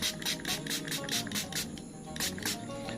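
Rapid bursts of a hand sprayer misting water onto an agate stone, about a dozen short hissing pulses in an uneven rhythm, close and fairly loud.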